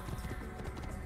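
Horse galloping in the video game Assassin's Creed, a fast, steady clip-clop of hooves close by, with no talking over it.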